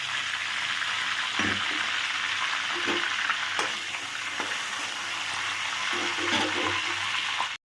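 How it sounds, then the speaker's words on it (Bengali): Mustard seeds, radhuni, dried chilli and bay leaf dropped into hot oil left over from frying fish, giving a loud, steady, close sizzle and crackle with a few pops and stirring clatters. "এবার আমি দিয়ে দিচ্ছি ফোড়নের জিনিসগুলো সর্ষে রাঁধুনি শুকনো লঙ্কা তেজপাতা"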